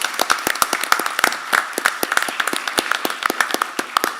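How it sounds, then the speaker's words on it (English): Audience applause at a school district board meeting, a brief burst of scattered hand claps from a modest crowd, close and fairly loud, with no speech over it. "Let's give them another round of applause."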